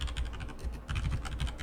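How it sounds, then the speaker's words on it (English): Fingers type quickly on a computer keyboard, close and clear, with rapid irregular key clicks in short bursts and brief pauses. "if I'm typing in a program in Java"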